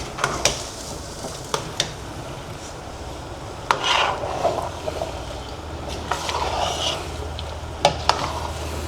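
A spoon stirs a large pot of sautéed mung bean stew (ginisang monggo) cooked in bulk for a whole neighborhood, with a soft steady sizzle and scattered sharp metallic clinks against the pot.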